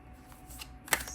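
A Fortuna Tenebris tarot deck of normal tarot size is shuffled by hand, giving soft papery card rustles that end in a sharper slap near the close, quiet and brief.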